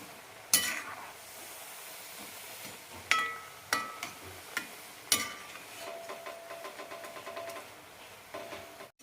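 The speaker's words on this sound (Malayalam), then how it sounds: "നല്ല ഗോൾഡനായി കിട്ടണം അതുവരെ വറുത്തെടുക്കാം" Semolina vada snacks fry in hot oil with a faint, steady sizzle, punctuated by several sharp clinks and taps of a utensil turning the pieces.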